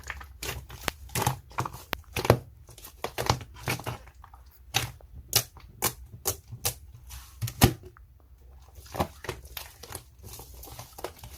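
Heavy keyboard typing during a long live session, a rapid run of sharp, close clicks and clacks in irregular bursts with brief pauses, fairly loud and with no voice over it.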